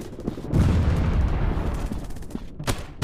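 Gunfire from a first-person shooter game styled after PUBG, a burst of close, heavy shots and booming reports crowding together over a few seconds, loud and punchy with no voices.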